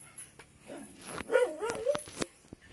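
A dog barks and yelps a few times nearby, with whiny rising tones mixed among short sharp barks and some background clatter.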